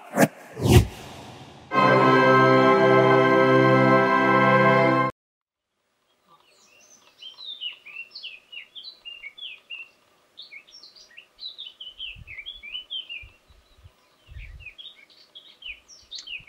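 Wild birds singing in a valley in southern Portugal, many small chirps and trills scattered through the second half with quiet gaps; a loud tonal sound and a louder harmonic burst come first, then silence before the birdsong.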